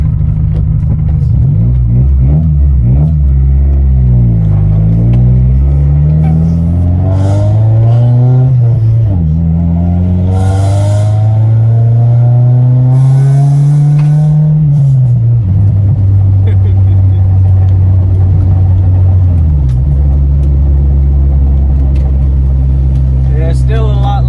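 Car engine fitted with a high-flow adjustable catalytic converter exhaust revs repeatedly, its loud, rattly drone rising and falling through several throttle sweeps before settling to a steady idle-like hum.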